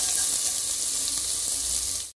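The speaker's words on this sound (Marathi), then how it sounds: "1 बारीक चिरलेला कांदा टाकूया" A steady sizzle of finely chopped onion frying in hot oil, continuous and close, cutting off abruptly at the end.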